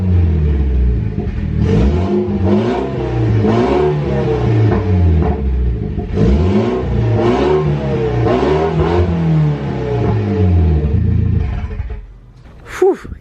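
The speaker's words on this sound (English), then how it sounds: "I'm gonna let it warm up and I'll get a quick rev" A Mitsubishi Lancer Evo X engine is revved repeatedly up close, each loud rumbling blip rising and dropping back in a steady sequence of pulls before the engine settles and quiets near the end.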